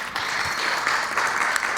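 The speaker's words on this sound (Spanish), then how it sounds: "A ver, un aplauso a nuestro hermano." Steady applause from a church congregation for a brother during Sunday school, a dense continuous clapping throughout without speech.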